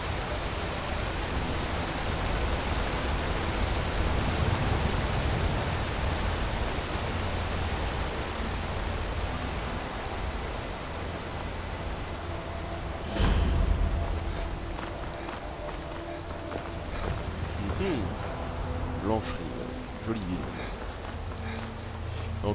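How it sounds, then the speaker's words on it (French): Steady rain hisses continuously at a moderate level in the video game Skyrim, a dense wash of noise with a brief louder splash midway. "Oh là là, il pleut."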